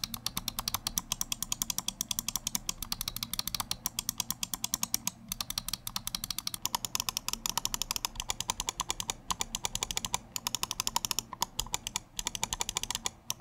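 Gaming mouse with Titan optical switches clicking in rapid continuous bursts, crisp and close, with no voices over the fast steady tapping.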